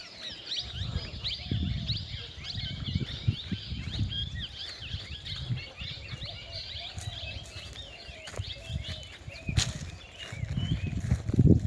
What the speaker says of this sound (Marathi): बाजूला तुम्हाला चिमण्यांचा पण आवाज येत असेल.